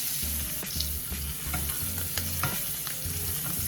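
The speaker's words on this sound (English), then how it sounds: "Basting the scallops" Scallops sizzling in a pan as butter is spooned over them, a steady crackling fry broken by rhythmic low scraping strokes of basting, close and alone without talk.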